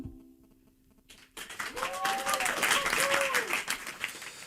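A live audience breaks into sustained applause and cheering after a song at a Frisian music show, the clapping swelling in after a brief quiet tail of the music with some voices in the crowd.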